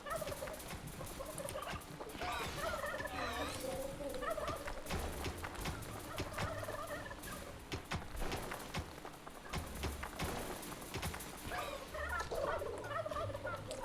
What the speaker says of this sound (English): These chickens are so Where obnoxious.